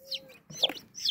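A mother hen clucking near her newly hatched chicks, short close soft clucks with thin high peeps from the chicks scattered across the moment.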